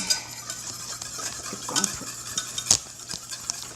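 Eggs mixed by hand in a bowl, with a faint steady scraping and clinking of the utensil against the bowl, quiet and close with no voices.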